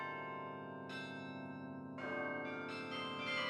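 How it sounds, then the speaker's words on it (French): Several carillon bells in a belfry ring together in a dense, resonant peal, with new strikes layering over the lingering hum, loud and sustained throughout. "les sonneries du carillon continuent de résonner dans toute la ville."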